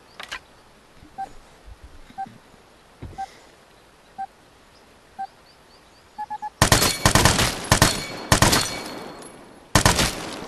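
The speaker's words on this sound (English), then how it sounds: "these shooting challenges with the machine guns and stuff are ridiculous" Dense bursts of automatic machine gun fire from the Vigor shooting challenge, starting after several seconds of quiet clicks and sparse faint pops, then loud rapid volleys with a short pause before a final burst.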